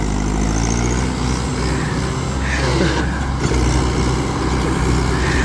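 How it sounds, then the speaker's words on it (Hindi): A modified Mahindra tractor engine runs loud and close as it is taken through its gears, a steady heavy rumble with shifting throbbing tones and slight changes in load, no talk. "तो भाई ये सारे गियर लगा लगा के चेक कर रहा है भाई सनी।"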